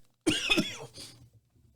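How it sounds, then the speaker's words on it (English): A single dry cough, close and sharp, with a short second burst just after, then quiet. "that medicine I take gives me a dry cough"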